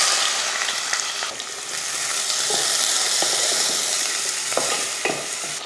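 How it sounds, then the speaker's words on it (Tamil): Shallots, garlic and curry leaves fry steadily in hot oil for a fish curry, a continuous close sizzle with scattered crackles and pops over several seconds, no voices. "ரொம்ப வெங்காயம் கருகாமல் நல்ல பொன்னிறமாக அந்த மாதிரி வறுத்து வதக்கினதுக்கப்புறமா"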